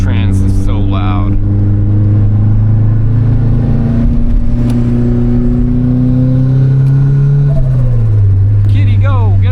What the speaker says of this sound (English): Dude, that trans is so loud.